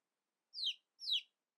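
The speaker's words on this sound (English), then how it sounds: "listen to chicks chirping in a nest" Chicks in a nest give two high, bright chirps about half a second apart, each a quick downward-sweeping peep, clear and alone with no other sound.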